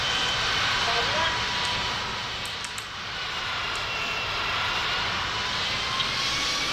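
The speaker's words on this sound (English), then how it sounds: "Ooh, full engine power." An airliner engine runs at full power in a pilot training simulator game, a loud, sustained roar with rising whining tones that dips slightly midway and then swells again.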